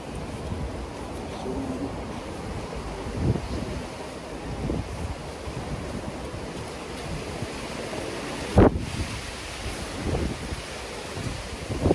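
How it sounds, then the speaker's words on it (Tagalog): Strong wind gusting across an outdoor deck-building site, a continuous buffeting rush against the microphone with louder bursts, including a sharp thump near the end; faint voices occasionally under it. "Hangin, mahangin."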